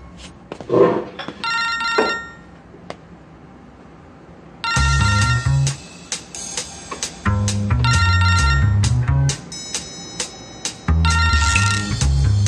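A telephone rings in a TV drama, its electronic ringtone repeating in several bursts with brief gaps, fairly loud and close.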